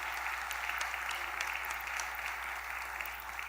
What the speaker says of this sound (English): let's give that an applause.